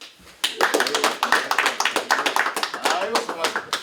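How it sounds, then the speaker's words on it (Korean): After a brief quiet moment, close, loud hand clapping breaks out at a mayoral campaign announcement, a brisk run of sharp claps from a small group with voices mixed in. "박수."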